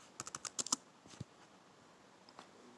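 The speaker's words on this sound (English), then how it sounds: "I'm just going to type in hello, y'all" Quick burst of keystrokes on a small LED sign's keyboard, about eight light clicks in the first second, then a couple of isolated taps and a faint later click in a quiet room.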